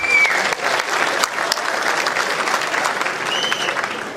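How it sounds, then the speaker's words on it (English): Audience applause at an automotive career day event, a loud, dense round of clapping with a few sharp individual claps standing out, sustained evenly for several seconds. "how about a round of applause for a great show?"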